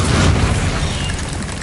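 A Bombarda spell explodes in Hogwarts Legacy, a loud, dense blast that swells at the start, then rumbles and crackles steadily for over a second.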